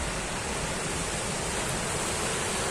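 Zerdaba waterfall in Taza province, Morocco, roars as a steady, dense broadband rush of falling water that fills the whole clip at close range, with no voices over it.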